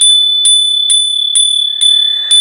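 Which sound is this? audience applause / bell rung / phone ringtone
bell rung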